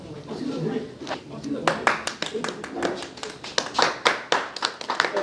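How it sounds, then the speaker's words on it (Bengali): Clapping at an opening ceremony, a run of separate sharp claps growing more frequent over several seconds, heard over people talking. "জোরে করতালির মধ্যে দিয়ে"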